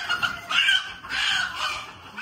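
Chickens on a poultry farm cluck in two bursts of busy, overlapping calls, fairly close and moderately loud, with short quieter gaps between them.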